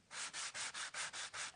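A sanding block rubs back and forth over cardstock in eight steady, even strokes, each a close, dry, raspy scrape with a short pause between, and no voices.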